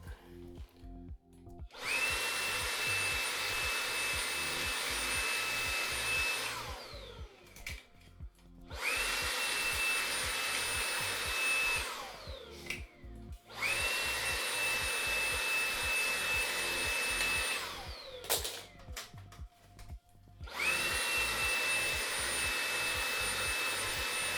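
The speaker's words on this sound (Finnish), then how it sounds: "Imuroidaan nää suodattimet." A vacuum cleaner cleaning computer filters runs in long loud bursts with a steady high whine, switching off briefly between passes, with clattering and scraping as the nozzle moves.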